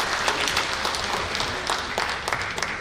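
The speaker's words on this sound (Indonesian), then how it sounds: "Boleh tepuk tangan dulu buat mereka" A room full of people applauds, a dense burst of clapping sustained for a few seconds at fairly close range.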